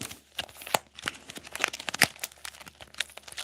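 A deck of playing cards being shuffled by hand during a card trick, giving a close, crisp run of riffling and flicking bursts over a few seconds, with no speech.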